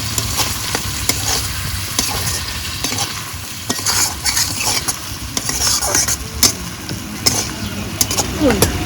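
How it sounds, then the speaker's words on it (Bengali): A spatula scrapes and stirs spice paste with salt and turmeric in a pan for a pabda fish curry, with rhythmic clacks and scrapes over a steady sizzle and some faint background talk. "আর মশলাতে স্বাদ মতো লবণ হলুদ এবার ভালো করে কষে নেব"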